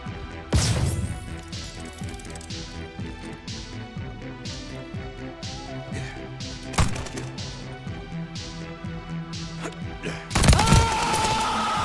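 Gunfire in Black Ops 3 multiplayer: a rapid series of sharp, loud shots in quick bursts, with heavier booming blasts near the start, middle and end, over steady game noise.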